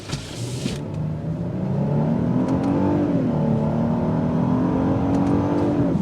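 A 2023 Genesis GV80 luxury SUV engine surges from standstill into full-throttle acceleration, its rising drone climbing steadily and staying loud and close throughout.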